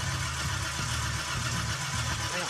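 A restored 1957 Chevrolet engine runs at a steady idle, a loud, continuous low mechanical rumble with even pulsing throughout.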